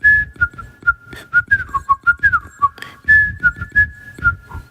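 A man whistles a US military reveille bugle call by mouth, imitating the bugle with a quick series of short, bright staccato notes and a few sustained tones, loud and close with no other sound.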